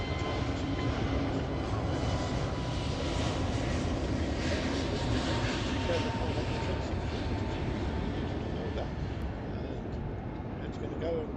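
A British Airways jet departs Heathrow bound for Cairo, a sustained broad engine roar that stays steady and moderately distant, with a voice faintly underneath.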